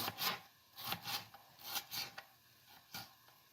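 A knife chops a tomato finely on a cutting board, close up, with about eight quick, crisp strokes in an uneven rhythm and no voices.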